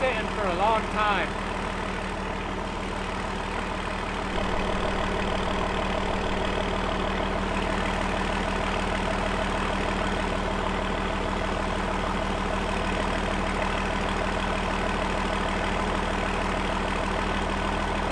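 A Cummins 6BT diesel swapped into a truck idles steadily and loudly throughout, a continuous low mechanical rumble with a brief louder burst near the start as it catches, while voices talk over it.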